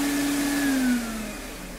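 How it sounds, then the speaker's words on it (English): A vacuum cleaner with a power nozzle drones loudly nearby, its whine climbing in pitch as the motor speeds up, then settling into a steady hum. "I hear the vacuum actually raising its RPMs"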